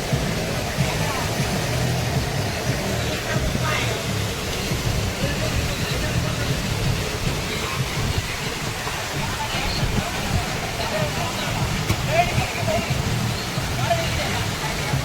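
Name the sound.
large monsoon waterfall at Malampuzha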